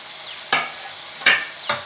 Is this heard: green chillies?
yes